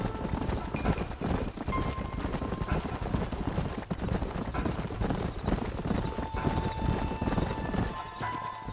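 Steady clip-clop of several horses' hooves trotting continuously in the video game Red Dead Redemption, fairly close, with a constant rumbling background and no talking.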